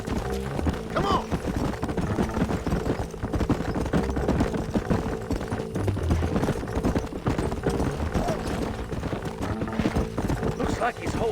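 Steady clip-clop of horses galloping across the open frontier in a Western game, a rhythmic hoof beat running throughout with a brief whinny, under a voice talking.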